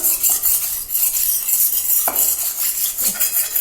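Metal utensil stirring vinegar around a burnt kadai frying pan, scraping and clinking close by in steady strokes with a faint sizzle underneath.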